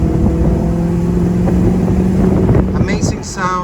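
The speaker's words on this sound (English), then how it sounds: "Nothing nicer than a German tuned V8 with a full exhaust with headers and everything you can order from" A 1984 Mercedes-Benz 500SEC with an AMG-tuned V8 and full exhaust with headers gives a loud, steady, close rumble that lasts throughout, with a voice talking over it.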